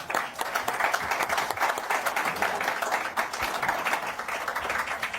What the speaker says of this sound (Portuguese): Vou bater palmas